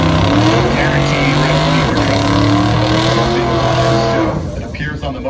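A green Ford Mustang drag car rolls up at a drag-racing strip, its loud, steady engine drone and rumble close and sustained, fading slightly near the end, with an announcer talking over it.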